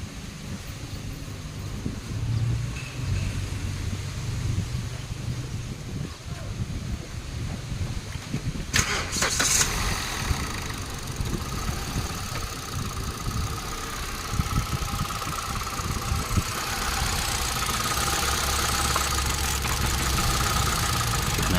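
A Hyundai Accent with a newly replaced ignition coil and a misfire problem starts up and idles. There is a faint click, then a steady, rough mid-pitched engine rumble close by under wind noise, with no talking.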